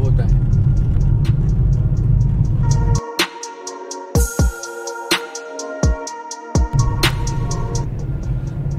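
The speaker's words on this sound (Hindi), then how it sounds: "तो अभी हम कुछ किलोमीटर्स की लगातार ड्राइव करेंगे हाईवे पे" A Hyundai Grand i10 Nios drives on the Srinagar to Baramulla highway, with a low road and engine rumble running steadily throughout, while someone talks over it for most of the clip.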